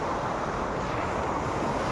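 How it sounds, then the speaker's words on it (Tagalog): Strong surf from a rough sea during the habagat monsoon washes continuously against the beach at Barangay Buangan, a dense steady roar mixed with wind buffeting the microphone, with no voices. "Lumakas ang dagat."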